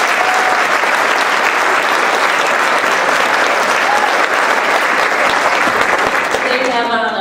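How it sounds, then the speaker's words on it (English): An audience at a Willy Wonka stage show gives the theatre crew a long, loud round of applause, a dense, even wash of many clapping hands that holds steady throughout with a little crowd noise mixed in. "Give them a big round of applause"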